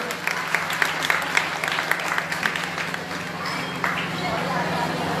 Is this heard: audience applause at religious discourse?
yes